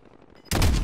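Burst of gunfire erupts in Warzone after a quiet stretch, loud, dense and sustained rapid shots filling the last half of the moment.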